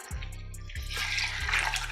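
Water splashing steadily from a tap or jug into a bowl to soak food for a vegan meal, a continuous close pour with a low background hum and no voices.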